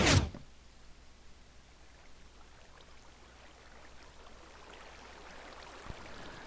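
Water flowing through a Minecraft slime farm makes a soft, steady rushing wash that stays faint and even throughout, after a brief louder burst at the very start.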